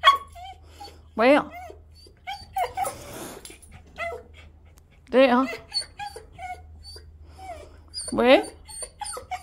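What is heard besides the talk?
dog whimpering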